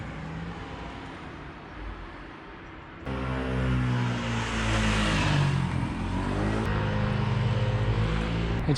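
Cars approaching along a narrow coastal hillside road, a faint distant hum swelling abruptly into a loud, close engine drone that holds as a vehicle passes, with no talking.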